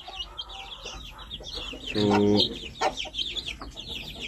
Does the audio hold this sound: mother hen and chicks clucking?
yes